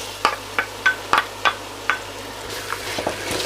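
Fresh tomatoes land in a pan of frying onions and are stirred with a string of sharp scraping strokes and a soft sizzle, close and steady, with no talking.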